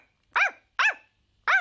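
A voice imitates a dog barking, giving three short, evenly spaced woofs that sound loud and close, with silence between each one.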